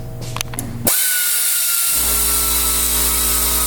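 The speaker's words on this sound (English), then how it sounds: "Just on the other side of that filter is a small bolt he's undoing that holds the back side of the compressor on." A power tool whirs briefly as it undoes a small bolt holding the back of the AC compressor on a 1995 Cadillac Eldorado. A steady, loud mechanical hiss and hum continues afterward with no talking.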